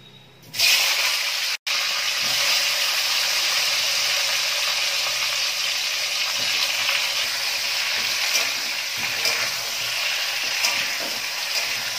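Vegetables tossed into hot oil seasoned with cumin and bay leaves for khichuri set off a loud, continuous sizzle that runs unbroken throughout, close to the pan.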